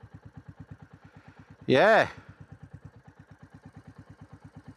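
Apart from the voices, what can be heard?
motorcycle engine idling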